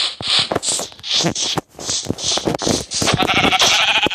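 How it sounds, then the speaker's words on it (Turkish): Several sheep bleat in quick succession in a survival video game, wavering nasal cries one after another, loud and close with short gaps between them. "burada koyun avlayabilirim artık"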